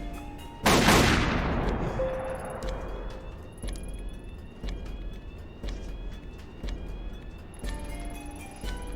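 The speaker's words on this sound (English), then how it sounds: "Shoot the lock." A loud gunshot cracks against a lock in a video game, followed by a long decaying echo and scattered faint clicks and game ambience afterward.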